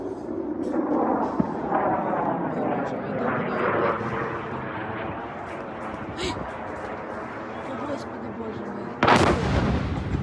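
Distant rumbling booms of air defense fire at a Russian Shahed drone cross the sky under the drone's airborne engine drone, over a village in Ukraine, with a sharp louder crack near the end while people speak.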